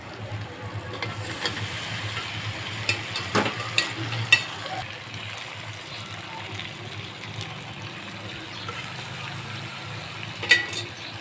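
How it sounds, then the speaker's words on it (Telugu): Lamb head meat pieces frying in oil while being stirred to coat, a continuous moderate sizzle with scattered sharp clinks and scrapes of a utensil against the pan. "ఈ ఆయిల్లో మంచి ఫ్రై అవ్వనివ్వాలి పీసెస్ని."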